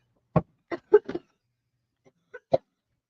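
A few short, sharp coughs or hiccup-like bursts spaced out in near silence, close and fairly quiet.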